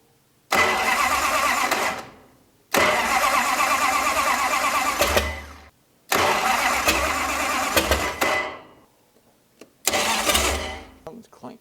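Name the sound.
1968 Dodge Coronet V8 engine firing and running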